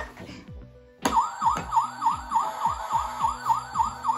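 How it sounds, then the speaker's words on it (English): A toy fire truck siren starts abruptly after a second of quiet, then wails in a fast, regular up-and-down electronic cycle, close and loud, alongside a simple repeating tinny melody. "Oh, fire truck."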